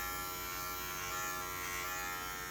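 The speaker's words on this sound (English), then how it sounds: "So I can reach inside and shave everything inside." Electric clippers buzzing continuously at close range while shaving between the toes inside a poodle's foot, a steady unbroken hum with no talk.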